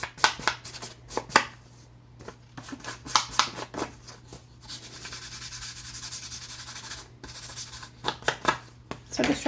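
Paper for a Hot Wheels scrapbook being distressed by rubbing to give it a grease-stained look: close, dry scratchy rubbing strokes in short bursts, with a longer continuous scrubbing stretch in the middle.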